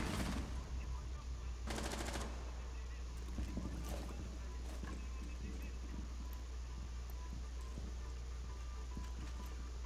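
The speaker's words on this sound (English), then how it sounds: "Someone is shooting up from this hatch." Gunfire rings out from below a floor hatch during a Rainbow Six Siege hostage match at the Consulate map, a sharp burst at the start, then another short rattle after a pause, over steady ambient game noise.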